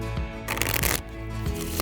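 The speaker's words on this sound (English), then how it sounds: "If anyone's shuffling skills are going to be showcased, it's obviously going to be mine." Playing cards being shuffled by hand inside an Airstream RV, a close, crisp riffle burst followed by a quieter bridge and a few soft taps.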